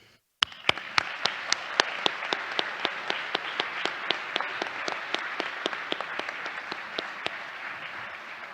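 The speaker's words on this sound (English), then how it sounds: "I believe another round of applause is in order." A room full of people at a high school induction ceremony claps steadily, with one nearby clapper standing out in a regular, sharp rhythm over the broader applause.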